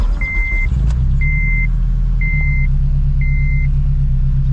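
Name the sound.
H22-swapped Honda EG car driving on the interstate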